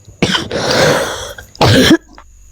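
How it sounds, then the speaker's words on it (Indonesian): Two harsh, close coughs about a second apart, the second sharper and louder, with quiet room tone around them. "mungkin batuk saya"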